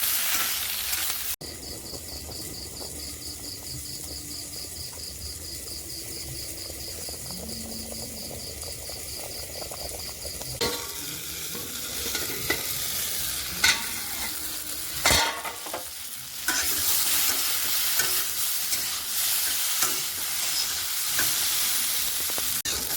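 Okra and potatoes frying with spices in a pan, a continuous loud sizzle with intermittent scraping stirs and a few sharp knocks, an insect-like chirp running underneath for the first half.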